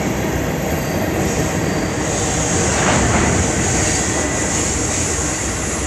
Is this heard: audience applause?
no